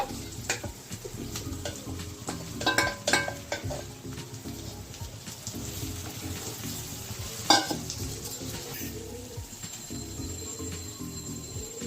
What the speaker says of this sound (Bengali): এটা আমি এবার এর মধ্যে দিয়ে দিচ্ছি, এই ভাজা মশলাটার মধ্যে